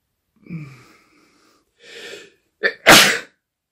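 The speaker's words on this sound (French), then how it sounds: "Je vais éternuer." A single sharp sneeze, loud and close, preceded by a couple of softer breathy intakes building up to it.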